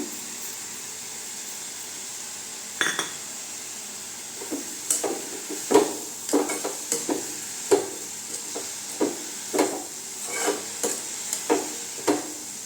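Radish greens cook in a pan with no added water, giving a steady soft sizzle and hiss broken by a dozen or so irregular scraping stirs, close and moderately loud with no talking.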